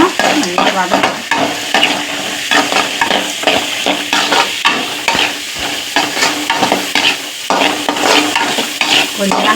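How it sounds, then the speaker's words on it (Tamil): Finely chopped onions sauté in a pan, loud sizzling oil driven by constant rhythmic stirring, the spoon scraping and clattering against the metal close up for the whole stretch, with no talk. "வெங்காயம் பொடியாக நெருக்கின வெங்காயம். இப்போ நல்லா வதக்குவோம்."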